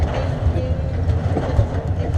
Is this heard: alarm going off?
no